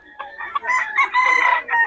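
A gamecock rooster lets out a loud, close crow lasting nearly two seconds, rising into a strained, ragged cock-a-doodle call with no talking over it.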